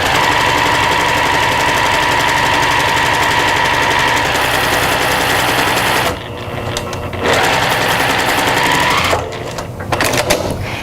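Sewing machine running steadily while stitching cotton fabric with cotton thread at a short stitch length, a continuous close, loud motor whir with two brief pauses near the end.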